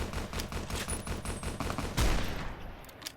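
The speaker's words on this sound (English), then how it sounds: "we're just going to back off and use this rifle to take them out" Rapid rifle fire in the video game Fallout New Vegas crackles in a dense, continuous volley, with a heavier blast near the end before fading out.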